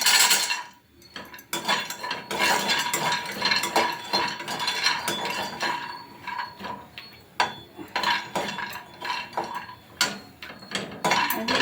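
Almonds tumble into a pan for dry roasting while making healthy nut energy balls, giving a busy run of clinks, rattles and metal scraping that carries on steadily and close by with no talk.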